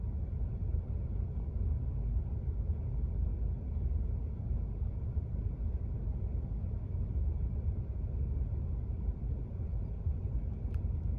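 Steady low engine rumble and road noise inside a moving car, continuous and even throughout with no talk, plus a brief faint click near the end.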